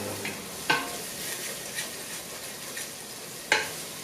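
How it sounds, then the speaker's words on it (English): Onions and stew ingredients for Nigerian ewa agoyin sizzle softly in hot oil in a pan, with a few sharp scrapes and clacks of a spoon stirring at intervals. "you just want this to stir fry for a bit"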